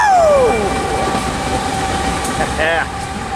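Union Pacific freight locomotives 6942 and 5104 pass close by with a steady rumble and wheel noise, while a horn tone slides down early and a voice shouts briefly over it.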